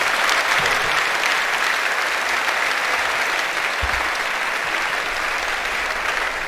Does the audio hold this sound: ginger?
no